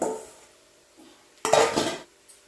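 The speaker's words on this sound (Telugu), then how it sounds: "ఈ తాలింపులోనే అన్నం అంతా వేసి కలపాలి" Cooked rice is mixed into a gongura tempering in a pan, heard as a close spoon scrape, a quiet pause, then a louder burst of stirring and clinking against the metal before it fades.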